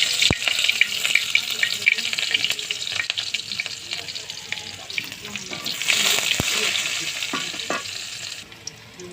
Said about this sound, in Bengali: তেলগুলো গরম হচ্ছে এর মধ্যে দেবো তেজপাতা